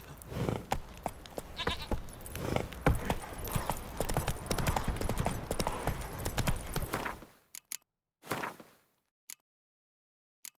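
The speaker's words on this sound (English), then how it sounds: "Run, Roach" Horse hooves gallop in a fast, continuous clip-clop rhythm in The Witcher 3, loud and close for about seven seconds before stopping, followed by a few isolated thuds and near silence.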